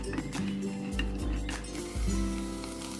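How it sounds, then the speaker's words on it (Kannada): Vegetables for a cauliflower and green pea kurma fry in a pan with a continuous close sizzle and occasional soft scraping and stirring clinks, with no voices. "ಇನ್ನೊಂದು ಸೈಡು ತರಕಾರಿ ಕೂಡ ಚೆನ್ನಾಗಿ ಫ್ರೈ ಆಗಿದೆ"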